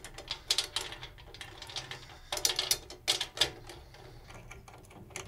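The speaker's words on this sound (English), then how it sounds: "I'm basically just turning the key with these particular lugs, and also with the Yamaha hook lug" A drum key turns the tension lugs of a snare drum, including Yamaha hook lugs, making quiet, close ratcheting clicks in irregular bursts.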